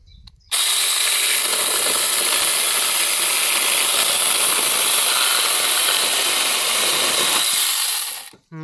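A portable pole chainsaw with a brushed motor starts abruptly with a loud, high-pitched whine and runs steadily for several seconds while cutting, then winds down at the end; close and continuous.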